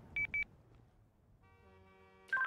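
Phone dialing in a GTA roleplay video game: two short, quiet electronic beeps in quick succession, a pause, then a sustained tone ending in a brief burst of beeping.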